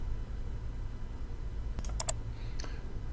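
Someone types a comment on a computer keyboard, a short quiet burst of a few crisp key clicks over a low steady hum, with a faint extra click just after.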